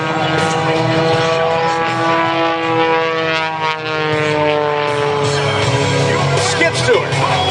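An aerobatic propeller airplane flies a triple loop at an air show over Fort Smith, its engine droning steadily with a rising and falling pitch as it climbs and pulls through, while an announcer talks over it.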